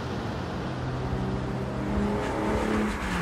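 A 1960 Aston Martin DB4 Zagato engine pulls steadily in a higher gear, a low, smooth drone with gentle rises in revs and road roar, heard from inside the moving car.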